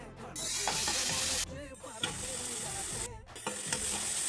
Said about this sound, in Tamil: எண்ணெய் சூடு வச்சு வெங்காயத்தை போட்டுலாம்